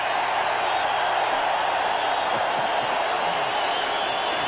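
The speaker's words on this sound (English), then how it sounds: "The crowd is already anticipating Perry coming onto the field. And here he comes. Listen to the crowd." A dense, steady roar of a large football stadium crowd cheering as William Perry comes onto the field, sustained and loud throughout with no pauses.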